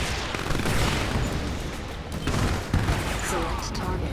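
Sustained gunfire from units in the real-time strategy game Command & Conquer 3: Tiberium Wars, a dense crackling fusillade of shots and bursts rolling continuously, with small blasts mixed into the battle noise.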